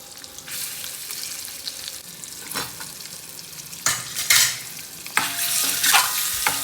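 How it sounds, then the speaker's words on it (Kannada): Spiced eggs, pricked all over with a fork and coated in chili and salt, fry in a pan for egg biriyani: a steady sizzle with stirring scrapes, swelling into louder crackling bursts toward the end. "ಅದನ್ನ ನೀಟಾಗಿ ಒಂದು 2-3 ನಿಮಿಷ ಫ್ರೈ ಮಾಡಿ ತೆಗೆದಿಟ್ಕೊಂಡ್ಬಿಡ್ಬೇಕಾ"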